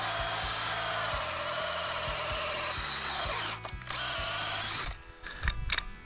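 A power drill fitted with a hole saw grinds steadily through a wooden sill plate, loud and close, then the motor winds down and the cutter clatters to a stop near the end.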